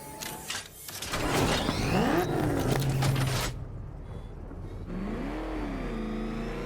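Batmobile engine revving in Batman: Arkham Knight, a rising and falling engine roar with a sustained mechanical whine mid-way, then a quieter drop before a second swelling rev, with cinematic game sounds around it.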